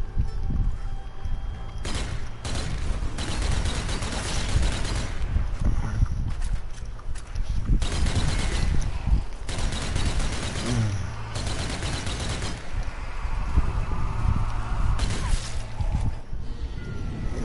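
Shotgun fire against zombies in the Dead Army video game, a long run of loud, closely spaced blasts with crashes and thuds between them, continuing almost without pause.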